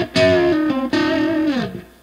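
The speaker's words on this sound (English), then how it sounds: "And this is that same lick with the effect on." An electric guitar plays a short melodic lick through a ring modulation pedal, giving clangy, metallic, inharmonic overtones; two phrased notes ring out clearly and decay, with no talking.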